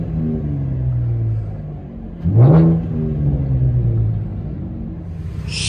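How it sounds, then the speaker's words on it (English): A 2015 Chevy Camaro V6 with true dual straight pipes and 5-inch tips rumbles at a low idle, then blips once in a short sharp rev before settling back to a deep steady drone, heard loud from close by. "2015 V6. True dual straight pipe with 5-inch tips."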